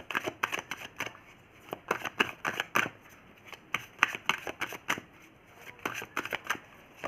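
Tarot cards being shuffled and drawn for a reading, a dense run of quick papery flicks and slaps, close and steady throughout, with no speech over it.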